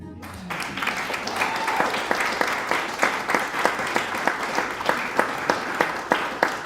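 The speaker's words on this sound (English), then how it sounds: "Would you guys keep that round of applause going for Mr. Wayne in the back" A small audience at a live songwriter round in a winery applauds steadily, dense clapping with a few louder rhythmic claps standing out, fairly close and with no talking over it.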